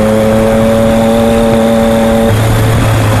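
A 600cc motorbike engine accelerates along a road, its steady tonal whine sustained for a couple of seconds before the pitch shifts as the rider changes gear, loud and close with wind noise and no talking.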